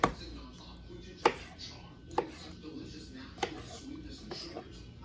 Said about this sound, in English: Slice these tomatoes down. Just cut those sides off of it.